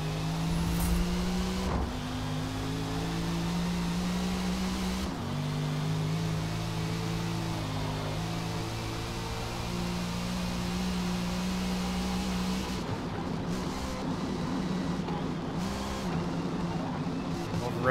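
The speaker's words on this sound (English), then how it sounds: "I'll rev the engine a little bit to make sure we don't lose any of that." Engine of a V8 front-wheel-drive Volvo A-class car racing at Le Mans in Forza Motorsport, a steady loud droning roar whose pitch drops and climbs again with gear and throttle changes, continuous for the whole stretch.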